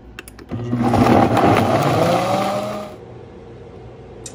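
A kitchen blender grinds shredded beef with two cups of water for sope filling, a loud whirring motor run of about two and a half seconds that then cuts off into quiet.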